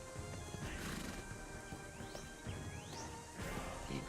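A horse in a video game whinnies and neighs twice, with rising and falling calls, amid clip-clopping hooves and busy game noise.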